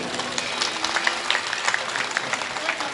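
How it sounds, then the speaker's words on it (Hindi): Audience applause at a devotional jagran singing event at a goddess temple, steady dense clapping from a crowd lasting throughout, fairly close and even, with no distinct voices over it. "जोरदार जोरदार तालियां बजाएं दोनों बच्चों के लिए"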